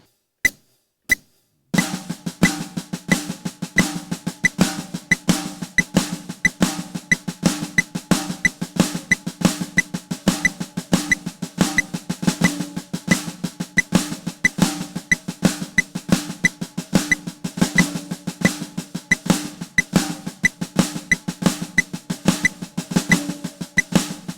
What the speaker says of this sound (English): like playing flams on every accent